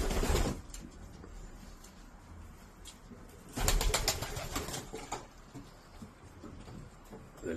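Iraqi-bred pigeons give a burst of wing flapping at the start and another around the middle, with faint cooing and shuffling between the bursts, nearby and with no speech.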